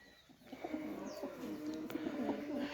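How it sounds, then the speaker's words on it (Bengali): Pakistani Teddy pigeons coo continuously in soft, rolling, throaty phrases, several birds overlapping at close range against a light background hum, with no speech. "এক কথায় অসাধারণ কবুতর এগুলা"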